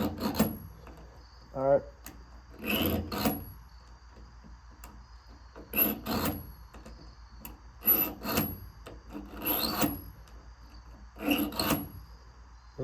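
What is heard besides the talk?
sharpening a Zwickey four-blade broadhead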